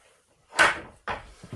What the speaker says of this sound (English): when we close the door